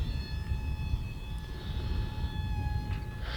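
Small E-flite UMX A-10 Thunderbolt II RC jet with twin 30mm electric ducted fans, flying outdoors with a steady whirring drone and several thin high tones that rise and shift as it passes, moderately loud and continuous.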